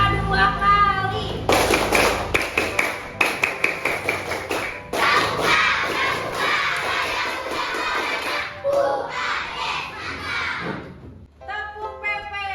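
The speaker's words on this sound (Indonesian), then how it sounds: "Tepuk pramuka 2 kali." A school class performs the Indonesian scout rhythmic clap, tepuk pramuka, a patterned series of sharp group handclaps mixed with children chanting, loud and close in a classroom, with brief talk at the start and end.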